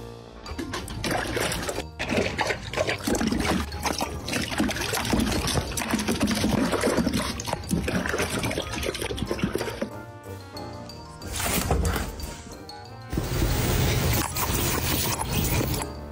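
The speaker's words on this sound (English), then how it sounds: "Being a master of the water hose, this shepherd is chewing and drinking it all" Water gushes and trickles from a running garden hose as a German Shepherd dog chews and drinks at it, a busy splashing stream that pauses briefly twice before resuming.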